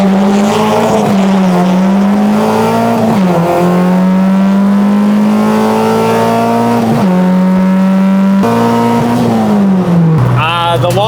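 A Honda Civic launching from the drag strip line without a burnout, its engine revving loud and close through several rising gear pulls with tire spin, ending in a higher-pitched whine.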